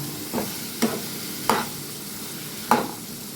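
Salt and turmeric get mixed into ash gourd cooking with hilsa fish head: four separate scraping stirs knock against the pan over a faint, steady background sizzle.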